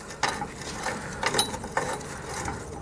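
Bolt being threaded by hand into the frame of a 2018 Ford F-150 while a Blue Ox base plate kit is installed: a few close, irregular metallic clicks and scrapes with a gritty turning sound between them.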